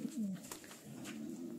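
Pigeons from a pigeon dealer's flock (King and meat breeds) cooing close by, a low throaty coo near the start followed by softer repeated calls amid faint background noise.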